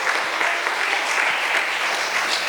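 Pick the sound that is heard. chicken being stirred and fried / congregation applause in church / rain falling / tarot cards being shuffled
congregation applause in church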